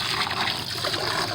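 Water rushes steadily while rinsing industrial residue off PVC pipes, a dense close hiss with no gaps and no voices.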